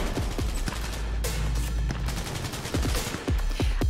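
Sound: gunshots in a video game

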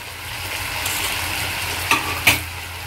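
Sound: stirring potatoes and spices frying in a pan

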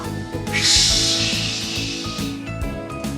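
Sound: voice imitating an angry cat hissing

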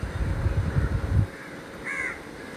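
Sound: crows cawing

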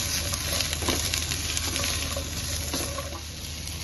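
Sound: stir-frying vegetables in pan

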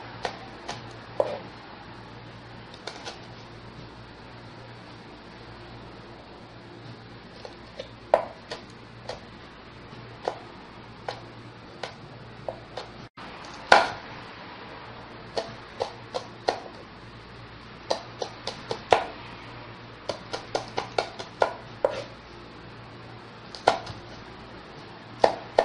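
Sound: knife chopping Bangladeshi green chilies

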